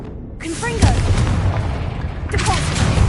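A Confringo blasting spell bursts with a loud boom in the Hogwarts Legacy video game, set in a tomb, followed by a second blast a moment later, while a voice speaks over the noise.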